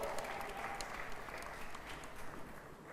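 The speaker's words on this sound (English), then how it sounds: "Round of applause there for Honorable." An audience claps for an Honorable Twatwa as he joins a discussion panel, giving sustained, fairly loud applause from a crowd for the whole three seconds.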